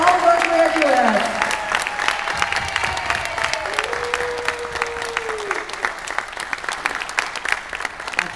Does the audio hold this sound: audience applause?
yes